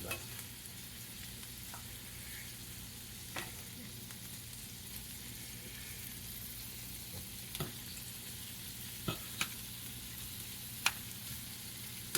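Flipped shrimp sizzle quietly in a pan, a soft continuous hiss broken by a handful of sharp pops and clicks, with no talking.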